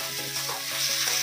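Spice masala with chili powder and a splash of water fries in a pan for a paneer and potato dish, giving a continuous close sizzle with light stirring scrapes and no voices.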